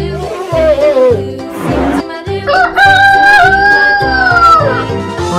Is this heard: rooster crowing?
yes